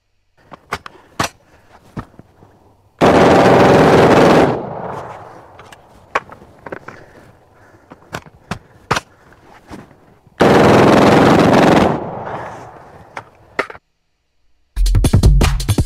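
Loud gunfire in two long sustained automatic bursts between scattered sharp single cracks, with a third burst starting at the end, loud and close with no talk.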